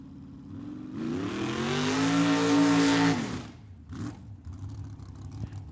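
A drag racing car labeled the 99 dragster makes a quarter-mile run at Tucson Dragway, its engine roaring loudly and rising in pitch for about two seconds before cutting off, followed by quieter background noise.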